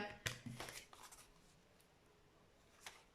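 Tarot cards being cut and shuffled, a quick flurry of close, soft riffling and card snaps at the start, then quiet handling, with a faint click near the end.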